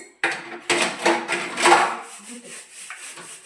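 A wire-and-fiber scrubber scours a dish in a home kitchen, giving repeated rough rubbing strokes in a steady back-and-forth rhythm, close and fairly loud with no talk.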